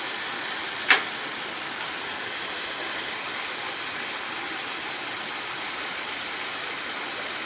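Steady rushing of water flowing through small pipes in a pond aeration system for iron removal from mine drainage, a continuous even wash close by, with one brief sharp click or knock near the start.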